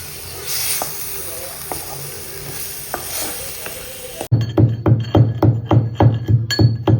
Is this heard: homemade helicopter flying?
no